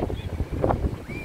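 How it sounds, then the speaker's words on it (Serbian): Wind gusts across the microphone on a beach at Marhaba Luk, with waves washing in low and continuous underneath and faint distant voices. "Vetrovito, talasi,"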